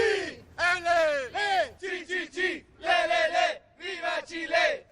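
Chilean football fans chant in Kazan, a crowd of voices rising and falling in loud, rhythmic bursts of shouted song with short gaps between phrases.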